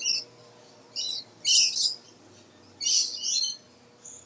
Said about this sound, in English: Punk rock Lorikeet.